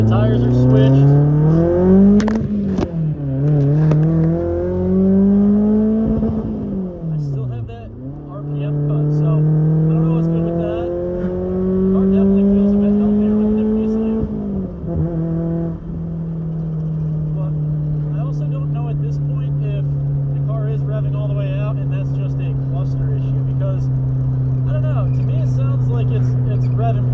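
A BMW E36 318 accelerates through several gears, each rising whine of the engine dropping at a shift before settling into a steady cruising drone, with a voice speaking over it at times.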